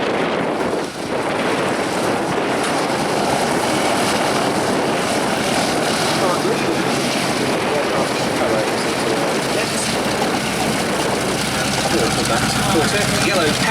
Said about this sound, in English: Cirrus Aircraft UK in the hands of Pete Kinsey.